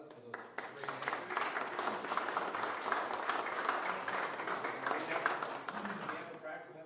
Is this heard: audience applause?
yes